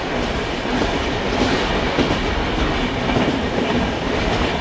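Loud, continuous rumble of an intercity train hauled by a WAP-7 electric locomotive, with rhythmic rattling and clatter of wheels on track, close by and unbroken, with no speech.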